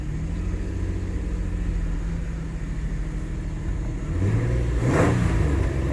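A 2008 Nissan Pathfinder 4x4 with a 4.0L engine and many dash warning lights runs at a steady idle, then revs up sharply near the end, loud and close.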